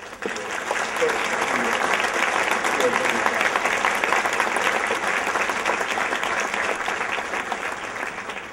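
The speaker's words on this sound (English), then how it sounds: "please, a round of applause for the" An audience at an opening-weekend screening of Lincoln breaks into sustained, dense applause that holds at an even, loud level throughout, with scattered voices mixed into the clapping.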